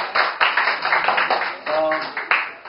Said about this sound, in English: We would like to give a round warm applause para sa ating mga debaters.